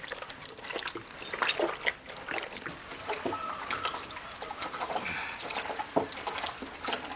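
Raw pork tripe is rinsed under clean water by hand, with close, continuous splashing, trickling and wet rubbing sounds at a soft level.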